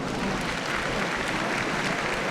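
Steady crowd applause from a courtroom scene in the Phoenix Wright: Ace Attorney Spirit of Justice video game, a dense even clatter of clapping that holds at full level throughout without a break.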